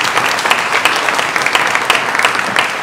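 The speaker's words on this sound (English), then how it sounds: "Can we just applaud Dr. Joon Yoon again?" Steady, full applause from an audience at a CSU Dominguez Hills Future Forum on the new health economy, honoring a speaker after his presentation. Dense clapping fills the room evenly throughout without a break and with no talk.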